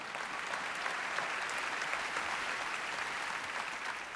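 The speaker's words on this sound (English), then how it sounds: "Yeah, you can clap for that video" An awards-show audience at the ESPY Awards in the David H. Koch Theater, Lincoln Center, claps for a video, a steady, even wash of crowd applause heard from a distance.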